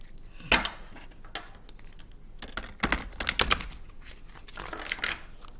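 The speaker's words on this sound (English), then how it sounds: "These cards are not wanting to shuffle today" Tarot cards are shuffled by hand in sharp, irregular bursts of riffling and slapping, with a few quick clustered flicks in the middle and softer rustles between, close and alone.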